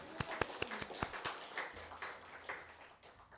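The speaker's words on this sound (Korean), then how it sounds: "그 은혜의 주님께 모든 영광의 박수를 올려드리겠습니다." A church congregation at a Sunday morning worship service claps in praise, with a handful of crisp, fairly distinct claps at first that soften into a faint, thinning patter.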